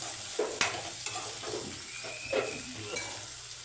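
Tomato rice being stirred in a pan, with a steady sizzle of frying and a few scraping strokes of a spoon against the metal, close and continuous.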